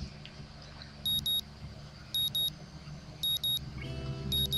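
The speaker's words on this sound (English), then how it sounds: "The sound of an alarm pulls me out of a fitful slumber into the unpleasant state of wakefulness." An alarm in the Katawa Shoujo visual novel rings in four short paired electronic beep bursts at regular intervals over quiet low background noise, with no voices.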